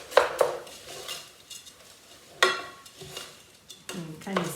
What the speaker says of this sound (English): And give everything another stir.